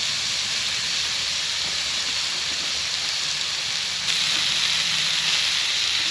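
Steak sizzles steadily in a hot pan at a woodland camp, a loud, continuous hissing crackle that brightens slightly partway through.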